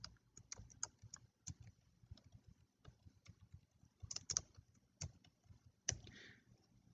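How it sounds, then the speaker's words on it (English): Quiet clicking of a computer keyboard during typing in Excel, irregular bursts of keystrokes with a few sharper taps, close and faint, with no talking. "let me type that, distribution costs"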